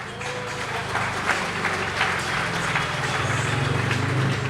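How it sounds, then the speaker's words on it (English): Steady applause and clapping from a grandstand crowd at a Poole speedway meeting, continuous and fairly loud throughout, with track and crowd noise behind it. "he gets a good round of applause from the grandstand here at Poole tonight"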